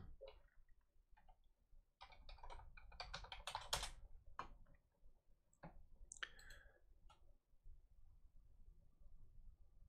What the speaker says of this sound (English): So I'm just typing into a different chat here for a minute.